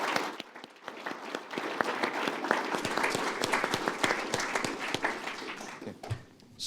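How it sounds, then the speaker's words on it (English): A summit audience on the road to net zero gives sustained applause for the panelists, a dense, steady patter of many hands filling the room. "Please, round of applause."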